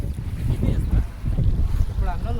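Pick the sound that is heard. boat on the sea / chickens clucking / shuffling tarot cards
boat on the sea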